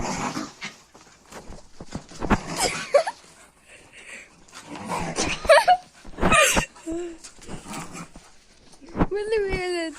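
Dogs scuffle and bite at each other in play, with bursts of growls, yips and whimpers coming in uneven clusters, close and fairly loud, while people talk over them.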